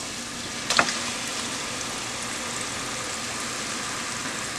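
Diced tomato hitting a hot pan with salmon and cassava, a brief sharp splash and crackle followed by a steady, even sizzle of frying that continues, close and without voices.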